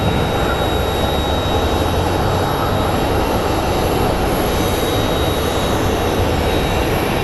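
A 22-year-old American Airlines Boeing 777 lines up for departure at Phoenix Sky Harbor airport, its jet engines a loud, continuous broadband roar that stays steady and close for the whole stretch.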